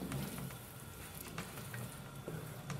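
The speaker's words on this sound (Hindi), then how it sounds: "अब मैं इसको थोड़ा सा भूनने देती हूँ" Chana masala fries in a pan, a faint, steady sizzle with occasional soft stirring scrapes, quiet and close with no talking.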